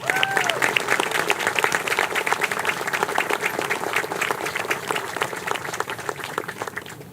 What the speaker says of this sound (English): Ladies and gentlemen, a deserving round of applause,